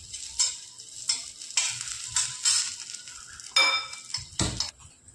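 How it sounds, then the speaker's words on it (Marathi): Finely chopped green chillies sauté in ghee in a wok while making potato chivda: a soft, steady sizzle broken by repeated close scraping strokes of a spoon stirring against the pan. "त्याच्यामध्ये 2 हिरव्या मिरच्या मी बारीक चिरून घेतल्यात, त्या टाकून घेऊ आणि याला थोडंसं परतून घेऊ"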